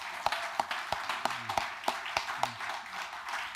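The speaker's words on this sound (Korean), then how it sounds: "우리 하나님께 감사 박수합시다" Scattered claps from a church congregation giving thanks to God during a Sunday morning service, a dozen or so sharp, uneven hand claps spread over a few seconds against a quiet room hum, fairly soft and without talk.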